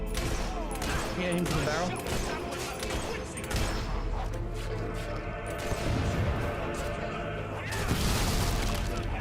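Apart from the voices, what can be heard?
traitor's gun firing in the video game Fable 3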